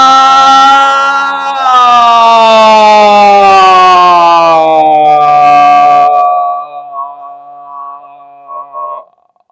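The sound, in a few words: voice imitating a siren, vocal exercise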